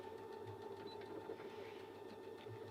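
Brother Innov-is BQ950 sewing and quilting machine stitching decorative bumblebees runs with a steady, quiet mechanical hum and fast rhythmic needle chatter, close by and continuous with no talking.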